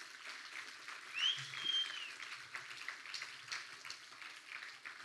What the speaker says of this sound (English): I do want you to give your parents a big round of applause